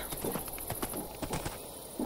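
A horse in the Minecraft game with the Minecolonies mod clip-clops along, a quick irregular series of close hoof thuds under a steady background hiss.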